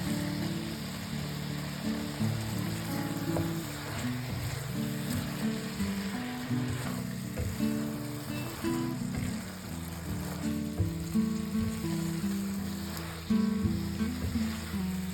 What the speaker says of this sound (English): Stir-fry quickly over high heat, mixing everything well